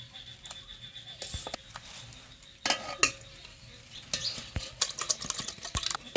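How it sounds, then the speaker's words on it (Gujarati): Yogurt spooned into a steel bowl for village-style raita, with scattered clinks and taps of a spoon against the bowl and soft wet scraping, a few sharper knocks coming closer together toward the end. "હવે એમાં આપણે નાખવાના છે દહીં"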